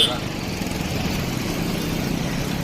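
Steady low rumble of idling vehicle engines in stalled traffic at the 2025 Maha Kumbh in Prayagraj, continuous and fairly close, with faint voices mixed in.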